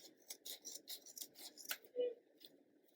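Scissors snip through a fabric sock in a quick run of crisp cuts, close and fairly quiet, ending with a brief pause and a faint final rasp.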